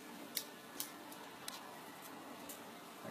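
Wire snipped with cutters while winding a QuadCore infinity coil from a spool, heard as a few sharp, faint clicks spaced apart against a quiet background.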